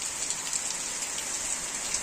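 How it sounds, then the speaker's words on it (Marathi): Heavy rain pours down on a small home garden in a village, a loud, unbroken wash of drops hitting surfaces close by. "खूप जोराचा पाऊस येत आहे."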